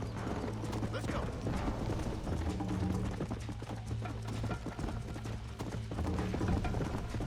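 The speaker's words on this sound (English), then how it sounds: "Caraca, o cavalo corre demais" A horse gallops in the video game Red Dead Redemption, rapid rhythmic hoofbeats pounding steadily and up close, with creaking tack and faint voices mixed in.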